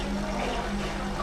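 Water fills the steam boiler of a PL92T coffee machine as a steady, close hiss of flowing liquid over a constant low hum.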